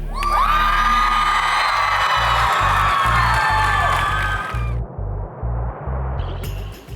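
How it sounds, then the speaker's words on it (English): A loud crowd in the bleachers at a high school drag race cheers and screams continuously, the roar swelling then tapering, with rhythmic thumping underneath and no clear talk. "Just sitting up in the bleachers, cheering along too."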